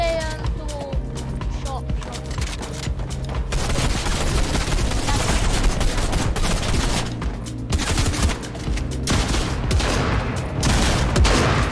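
Gunfire in a video game, rapid shots popping nearly nonstop amid busy game sounds, with players talking over the action.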